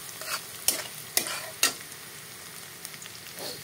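Bay leaf dropped into hot oil with lightly browned onions for mixed dal: a soft steady sizzle, close up, broken by a few sharp clinks and scrapes of stirring.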